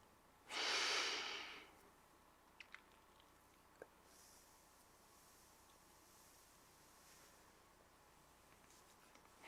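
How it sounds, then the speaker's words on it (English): One slow, deep breath is drawn in close to the microphone as part of a controlled breathing exercise, a strong airy rush lasting about a second, followed by a few faint clicks and long quiet. "Breathe out twice as long as it took you to breathe in, and remember not to force it out."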